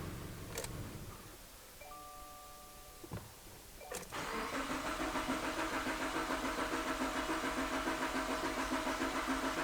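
A car engine is cranked during a compression test: a few clicks and a brief tone, then a sudden start into a steady, rhythmic mechanical churn that continues evenly and fairly close.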